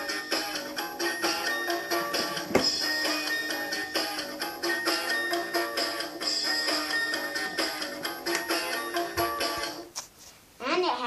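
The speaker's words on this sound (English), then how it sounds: "When you step on the carpet, it makes music like this." A Barbie Dream House 2013 toy bathroom carpet plays a tinny electronic melody when stepped on, continuous and fairly loud for about ten seconds before cutting off with a brief rustle.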